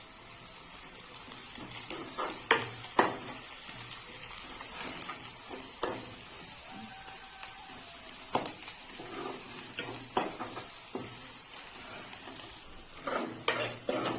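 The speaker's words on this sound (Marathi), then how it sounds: "लसूण बारीक झालाय आता आपल्याला लसूण तेलामध्ये टाकायचं आहे" Chopped garlic sizzling in hot oil for a spinach and potato dish, with a steady bright hiss punctuated by clinks of a spoon against the pan, close and moderately quiet.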